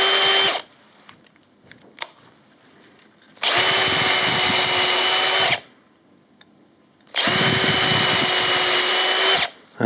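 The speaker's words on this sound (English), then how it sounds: "We're going to put a couple of drill holes." Power drill boring holes into a power-carved wooden pumpkin, two sustained loud bursts of high-pitched whirring, each about two seconds long, separated by quiet pauses with faint shop noise, no talking.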